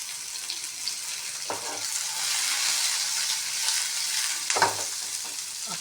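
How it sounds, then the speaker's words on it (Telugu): Ingredients frying in two spoons of oil in a pan for country chicken curry, a continuous close sizzle with a couple of sharp stirring scrapes, no voices. "పాన్ పెట్టుకొని రెండు స్పూన్లు ఆయిల్ వేసుకోవాలి ఇవి లైట్గా దూరగా వేయించుకుంటే సరిపోతాయి"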